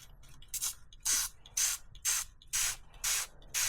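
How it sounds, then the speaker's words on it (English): Dawn Power Wash degreaser sprayed onto a bicycle cassette, giving six short hissing spray bursts in a steady rhythm, close and fairly quiet, with no voices. "start spraying over my cassette"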